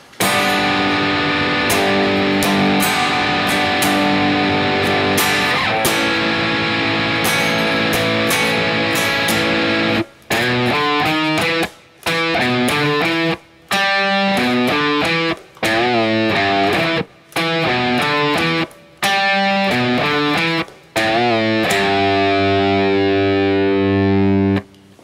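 Heavily distorted electric guitar plays the chorus riff of a song, loud and continuous, with sustained chords first and then rhythmic bursts separated by short stops, ending on a held chord.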